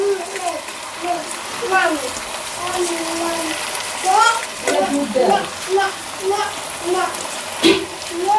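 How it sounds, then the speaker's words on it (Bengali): Onions frying with cardamom in a pan on a home stove, a soft steady sizzle running under a voice as she talks throughout. "পেঁয়াজ দিয়ে ভেজে নিচ্ছি"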